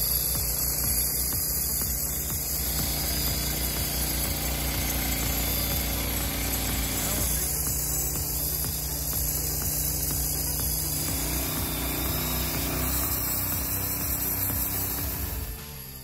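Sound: Frontier OS27 sawmill cutting large logs

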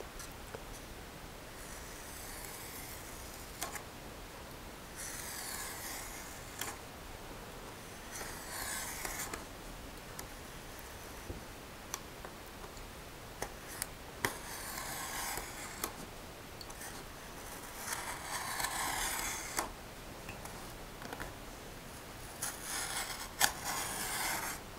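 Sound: hobby knife scoring rocket tube along aluminum angle

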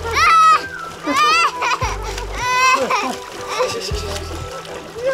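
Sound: child splashing while wading into sea water

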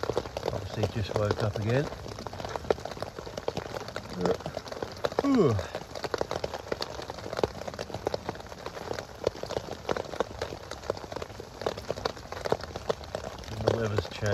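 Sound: rain falling on a tent while camping

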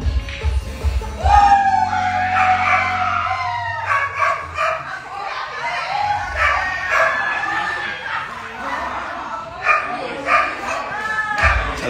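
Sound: dog barking

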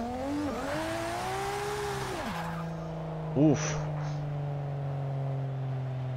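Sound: car engine revving in Forza Motorsport 6 video game

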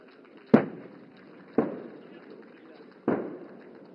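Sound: artillery guns firing at target tanks during military exercise

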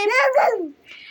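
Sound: child imitating a dog barking

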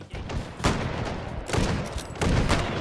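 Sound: 45-70 rifle gunfire in the video game Hot Dogs, Horseshoes & Hand Grenades

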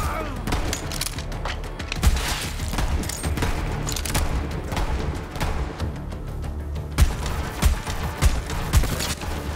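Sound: slow-firing projectile gun in video game Borderlands 3

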